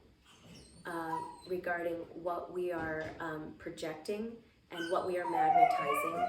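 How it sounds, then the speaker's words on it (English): A dog whimpers and howls in high, drawn-out wails somewhat in the background, mixed with and partly masked by a person speaking steadily. "I'm sorry about the dog."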